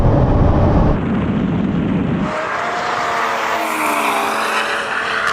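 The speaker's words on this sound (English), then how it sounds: "here comes a bloody Golf now!" A tuned Volkswagen Golf R accelerating hard in a drag race: a loud, close engine roar that drops as the car passes, giving way to a rising, strained howl as it pulls away.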